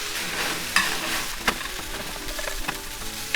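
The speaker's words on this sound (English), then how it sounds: "So you're gonna fry like this for about 2 minutes or so" Eggplant and meat fry with chili bean sauce in a pan during Japanese home cooking, a steady soft sizzle broken by several sharp scrapes and knocks of a spatula stirring, close and moderately quiet.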